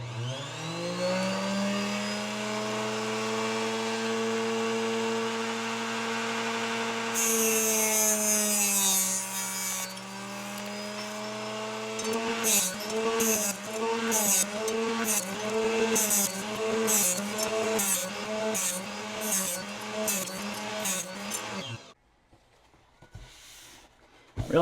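A saw with an adjustable fence cuts carbon arrow shafts with a close, whining motor. A steady whir gives way to a series of short rhythmic cutting bursts before the saw spins down.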